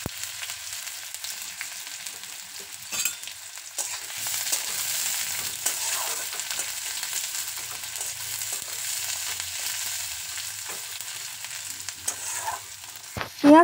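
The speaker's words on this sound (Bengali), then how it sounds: "পেঁয়াজটা লালচে করে ভেজে নেব।" Chopped onion fries in mustard oil in a pan, giving a steady, moderately quiet sizzle broken by occasional stirring scrapes and a clunk near the end.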